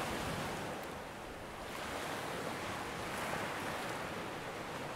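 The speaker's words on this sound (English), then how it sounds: "I'm going to let the ocean waves play" Steady ocean surf washes continuously, with soft rolling swells and a breezy hiss, calm and evenly loud throughout with no voices.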